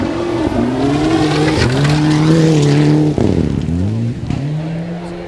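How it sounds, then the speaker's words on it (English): A Mitsubishi rally car on a gravel forest stage at the 2012 NEFR Concord Pond stage roars past close by, engine revving hard and rising then dropping in pitch as it passes, with gear changes and spraying gravel. "Here's Lachlan O'Sullivan up next in the Mitsubishi."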